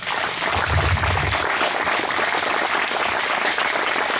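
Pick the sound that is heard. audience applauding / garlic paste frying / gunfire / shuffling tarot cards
audience applauding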